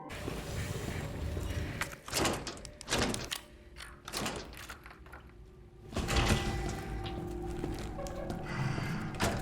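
Heavy bolts on an old door unlock in the Resident Evil 2 remake, a series of loud metallic thunks and clunks separated by short quiet gaps, close and resonant.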